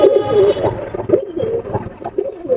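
A young golden high-flyer pigeon coos close by in a loft, giving several soft, throaty rolling coos in quick succession, alone with no speech.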